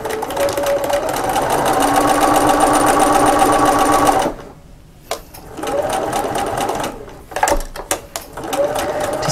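Domestic sewing machine back stitching to join two fabric pieces placed right sides together, a loud close whirring run that stops abruptly, then short starts and a resumed steady stitch.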